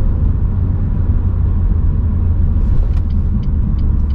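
Steady low engine and road rumble inside a moving Renault Clio 3 GT 1.6 16V, continuous and fairly loud, with a few faint high ticks near the end.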